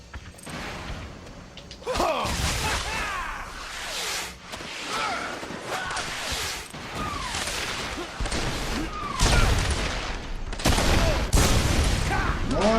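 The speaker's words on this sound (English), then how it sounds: "More explosions." Explosions and crashing bursts from the video game Marlow Briggs and the Mask of Death pile up over a constant rumble of action, with a voice talking intermittently underneath.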